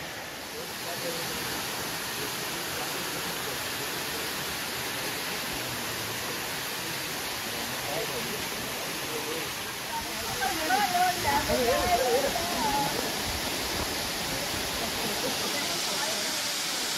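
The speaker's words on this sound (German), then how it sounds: "Wenigstens ist der Wasserfall ganz schön." A waterfall in Greece pours with a steady, broad roar that holds unchanged throughout, close and loud with no other sounds standing out.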